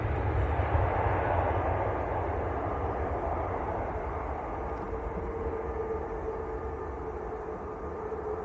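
A Jet2 Boeing 737-800 at Manchester Airport, a broad steady jet engine roar that slowly eases, heard from a distance and moderately loud with no talk over it.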